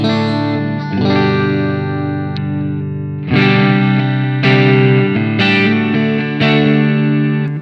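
Electric guitar through a Suhr PT100 amp plugin on its clean channel, with a bright Fender-like tone: a sustained chord rings out, followed by several loud strummed chords that each decay.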